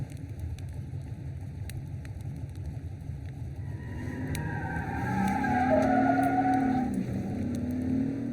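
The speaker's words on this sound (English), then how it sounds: "You all awaken suddenly with the sound of the truck starting." Truck engine starting and pulling away, a sound effect in a zombie-survival tabletop roleplaying session: a low rumble swells midway, holds loud for a few seconds, then eases slightly, with no talking.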